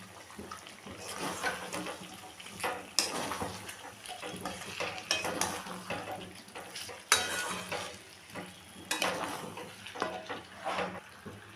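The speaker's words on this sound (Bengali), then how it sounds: "টক দইটা একটু ময়দা দিয়ে ফেটিয়ে রেখেছি যাতে ফেটে না যায়। দিয়ে ভালো করে একটু মিশিয়ে নেব।" Yogurt is stirred into Peshawari chicken in a pan on the stove. A spoon scrapes and knocks against the metal pan in an irregular rhythm over a soft, continuous sizzle, close by, with no talking.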